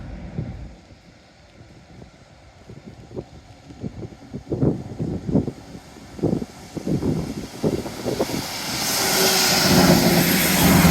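A train runs along the Teignmouth seawall on a wet, rainy day, its broad rumble swelling steadily over the last few seconds above gusty wind buffeting and scattered knocks nearby.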